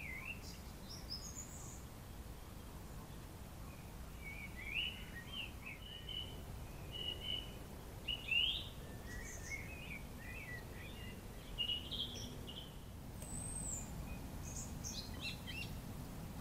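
Birds in an oak tree, with faint chirps and short song phrases scattered through the quiet at a distance, some passages fuller than others, over a low steady background.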